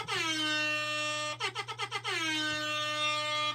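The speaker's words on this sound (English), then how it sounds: "Had to wake up the old air horn." A loud air horn blares in a long harmonic tone, breaks into a rapid series of about six short pulsing honks, then resumes as a sustained blast, all close and over a steady low hum.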